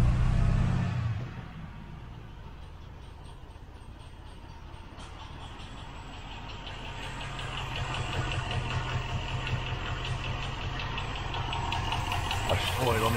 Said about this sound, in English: There's something wobbling somewhere. I think it's exhaust. There's a resonance on the exhaust.